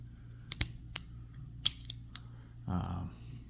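A few sharp metallic snips and clicks from pocket toolkit scissors, spaced irregularly and close by, followed by a short rustle of handling.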